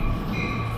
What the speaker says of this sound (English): this station train is going into, I believe it's going all the way to Penn Station in the city, in New York.